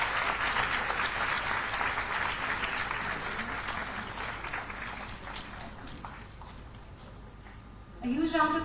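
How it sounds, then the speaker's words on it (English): Audience applause at the 1st Arun Jaitley Memorial Debate as the Best Interjector award goes to a student from Delhi College of Arts and Commerce: steady crowd clapping that fades slightly, then a voice takes over near the end. "A huge round of applause for Ayush Barmola from Delhi College of Arts and Commerce, Best Interjector."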